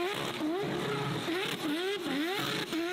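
Four-rotor Mazda RX-7 drift car engine running at the Goodwood Festival, a loud buzzing rotary idle that rises and dips in repeated short revs, close and continuous.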